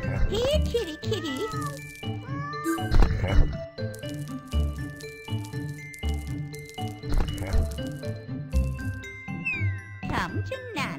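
In the video game Granny Winter Wonderland, a cat gives several meows, some early and one near the end, mixed with clinks, squishes and other game noises.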